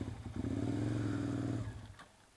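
A Suzuki SV650S motorcycle engine on a test ride gives a brief close rumbling, revving drone that fades after about two seconds.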